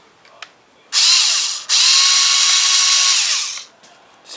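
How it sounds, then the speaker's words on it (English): A power drill whirs loudly on a toy gun part, running in two bursts with a brief pause between, the second burst held for about two seconds before spinning down. "I just use my drill to mark it"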